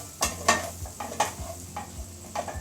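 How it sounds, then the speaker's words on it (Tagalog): A spoon stirs goto, a rice porridge made with oats, in a cooking pot, giving soft scraping strokes and light clinks at a steady pace over a low background hiss, close by and alone. "Haluin natin mabuti."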